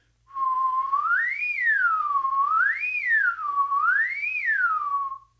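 A clear whistle glides smoothly up and down in pitch three times, like a slow siren, alone against silence, as a trumpet practice exercise.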